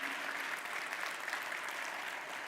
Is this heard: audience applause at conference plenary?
yes